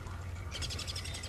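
Birds chirp in Don't Starve Together, a short quick series of bright tweets entering partway through over a low ambient drone.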